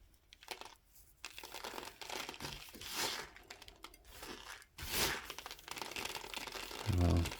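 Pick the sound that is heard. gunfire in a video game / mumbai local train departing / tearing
tearing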